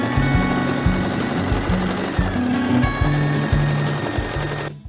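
A sewing machine runs in quick bursts of rapid stitching with brief pauses between, sewing apron ties with a closed seam after a one-centimetre turned-in fold, loud and close.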